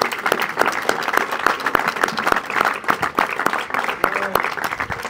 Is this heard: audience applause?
yes